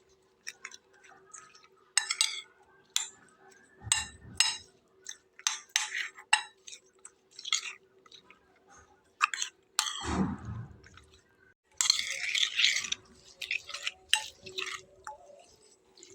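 Eggs worked by hand into paratha dough in a bowl: soft, wet squelching and sticky slapping in irregular bursts, close and fairly quiet, with occasional clinks and a brief low thud.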